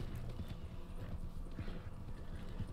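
Horse hooves clip-clopping steadily in the video game Red Dead Online, a continuous fairly quiet rhythmic trot under low background ambience.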